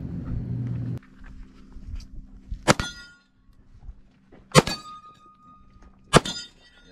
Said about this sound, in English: Let's shoot some plates.